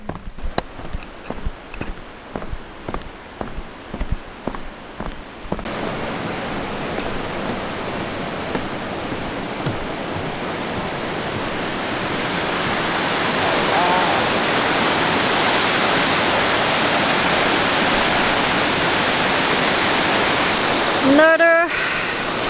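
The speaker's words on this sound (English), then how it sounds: "Another beautiful waterfall and beautiful view." Steady roaring rush of falling water builds and fills the scene, preceded by rhythmic clopping footsteps, with a brief voice near the end.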